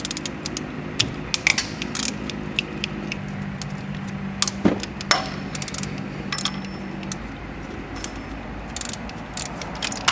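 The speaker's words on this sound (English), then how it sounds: "next it's time to remove our water pump, which is held in by, looks like 6 12mm bolts" A ratchet wrench loosens 12mm water pump bolts on a Kia Spectra 1.8L DOHC engine during a timing belt job, with rapid close clicking bursts and metallic tool clinks over a steady low hum.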